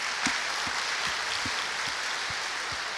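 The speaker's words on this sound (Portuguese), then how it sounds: "Vamos dar uma salva de palmas a eles." A church congregation claps for children attending Mass, a steady wash of crowd applause that fills the whole span at even loudness, with no voices rising above it.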